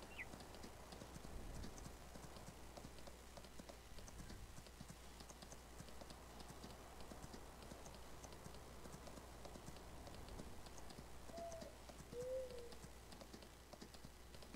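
Horse hooves clip-clop steadily while riding in the Farming Simulator 19 game, a rhythmic, fairly faint clatter that continues throughout, with occasional bird calls and cooing in the background.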